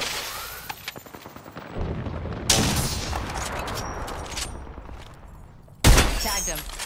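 Gunfire from an Apex Legends season 22 match: sustained loud shots with two sharp, heavy blasts standing out, over steady game noise and without voices.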